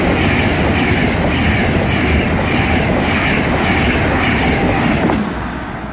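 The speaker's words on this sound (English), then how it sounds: "passing through now is going to be another Virgin Pendolino" A Virgin Pendolino train passes through Carluke station on the West Coast Main Line, a loud sustained rushing roar with rhythmic wheel clatter, close by and steady, easing slightly at the end.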